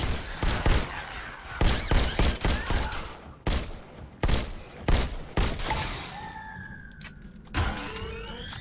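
Robo Recall VR shooter gunfire, rapid bursts of loud sharp shots in clusters against robots in an alley, followed by whirring mechanical whines as firing eases off.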